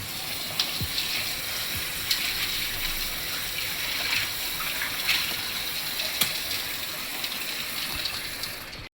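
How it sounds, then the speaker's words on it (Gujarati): Excess water pours steadily off soaked lentils for Surati khamani, a continuous close gushing splash with small drips and knocks throughout. "આ રીતે વધારાનું પાણી કાઢી નાખવાનું"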